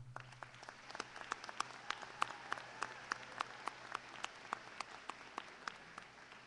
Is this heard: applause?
yes